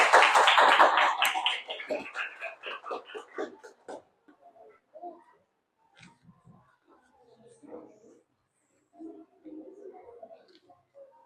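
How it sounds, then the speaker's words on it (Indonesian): A group of schoolchildren claps together loudly and close by for about four seconds, then the applause thins into scattered quiet taps with voices in the background. "Tepuk tangan untuk semuanya."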